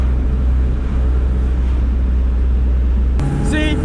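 A 1992 Toyota Hilux engine fitted with aftermarket Redback headers runs close by as a steady, loud low rumble, with the tone shifting near the end as a voice comes in.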